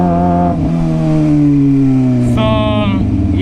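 A motorcycle lane splitting through street traffic, its engine tone rising and falling loudly and close up, with other vehicle sounds mixed in.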